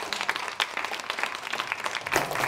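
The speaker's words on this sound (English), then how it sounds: "So, if you can give Coach Burke a big round of applause for my super coach." An audience at a business growth kickoff event in Dayton, Ohio applauds, a dense and continuous wash of clapping that swells again near the end.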